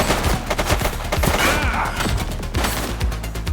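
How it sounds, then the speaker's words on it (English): Rapid bursts of gunfire crack out in a shootout in the police video game The Precinct, with sharp, overlapping shots fired in quick succession against loud background action. "She's shooting!"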